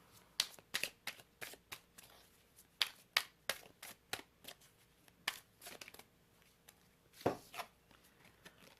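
Romance oracle cards are shuffled by hand in a long run of quick, crisp riffles and slaps, close and fairly quiet, with short pauses between bursts.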